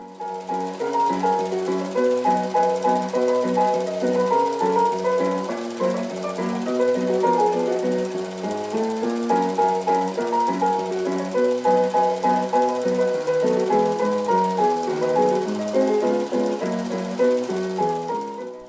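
A 1918 popular song recording plays continuously, a steady melodic tune with sustained notes and a regular beat, moderately loud and alone without talking.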